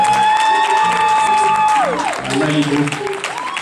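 Audience clapping at a gospel oldies event, steady applause with some cheering under a voice speaking and music tones fading out.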